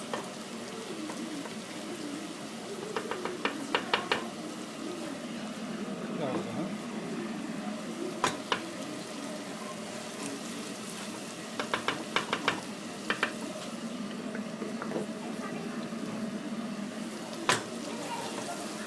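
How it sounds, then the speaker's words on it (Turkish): Güveç being sautéed with tomato paste in a pan gives a low, steady sizzle. Clusters of sharp spoon scrapes and taps break in at intervals, and a voice is faintly present in the background. "Biraz salçayla kavuruyoruz."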